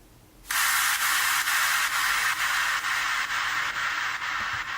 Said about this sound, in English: That white noise sweep really does a lot for the whole track.